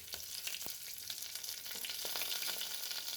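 Dried red chillies and curry leaves sizzle in hot oil while making Gujarati bhinda ni kadhi, a steady bright crackling hiss with a few small pops and stirring taps, close and alone.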